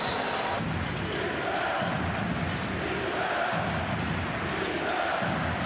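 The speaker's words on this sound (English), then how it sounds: "The crowd starting to get into it for Germany" A basketball arena crowd at EuroBasket 2022 roars for Germany in a loud, sustained wash of cheering and shouting, with brief dips and surges and little clear talk.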